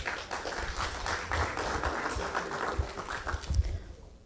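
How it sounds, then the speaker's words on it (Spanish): An audience at an evening civic forum gives a speaker a moderate, fairly distant round of applause that carries on steadily, then thins out and fades near the end. "Un fuerte aplauso para la doctora."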